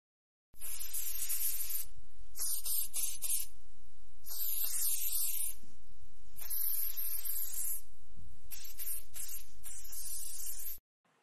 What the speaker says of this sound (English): I'm gonna spray you with this, and it's gonna protect your makeup.